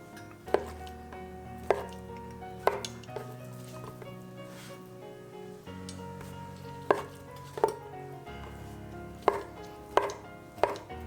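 A knife chops through fried tofu into cubes on a cutting board in a kitchen, sounding as sharp, irregular thunks in small clusters up close over a quiet background.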